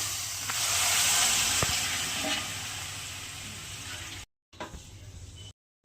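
Hot water poured into a katla fish head muri ghonto curry in a hot pan sets off a loud, steady sizzle and hiss that slowly fades, broken at the end by brief silent gaps.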